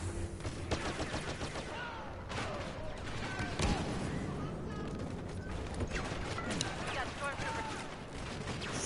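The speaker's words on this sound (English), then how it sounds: "Oh, blaster cannon, of course." Blaster cannon firing in the video game Star Wars Battlefront on the Jabba's Palace map, rapid bursts of energetic shots and explosive blasts in a busy, loud battle mix.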